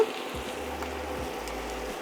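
Onion and carrot with pepper frying in a pan over medium heat, a steady soft sizzle running evenly through the whole stretch with faint scraping thumps.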